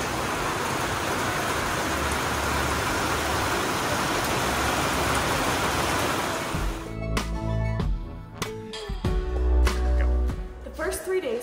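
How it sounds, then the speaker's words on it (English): Steady rain falls in Costa Rica as a dense, continuous hiss for about seven seconds, then gives way to a busier mix with louder low rumbles and sharp clatters. "It's raining."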